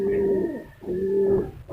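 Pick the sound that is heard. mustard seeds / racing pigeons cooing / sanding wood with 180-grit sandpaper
racing pigeons cooing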